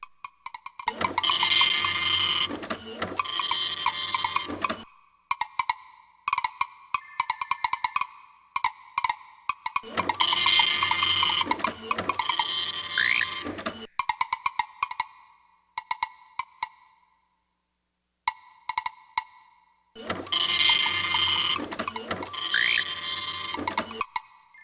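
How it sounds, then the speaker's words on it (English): A cyber printer in the Space Quest 6 computer game runs in three repeating cycles of buzzing, clicking electronic whirring with rising synthetic chirps, each burst separated by short gaps of quieter ticking. "The cyber printer accepts your cyber file gratefully and begins to print."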